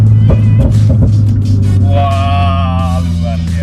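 A remapped Mazda 2 Skyactiv with a naturally aspirated 1500 cc engine, just downshifted into fourth gear: a loud, steady low drone from the cabin, with a rising whine as the engine revs climb.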